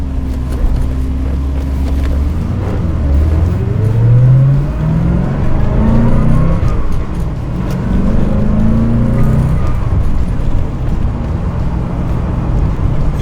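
The engine of a 1990 Corvette ZR1 is heard close and loud from the road as the car is driven, with the engine note rising and falling through gear changes and engine braking as the car slows.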